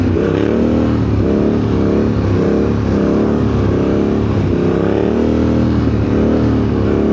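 A Suzuki GSX-R1000 motorcycle engine, close and loud, revving up and down in repeated surges as it accelerates, with a steady roar throughout and no voices.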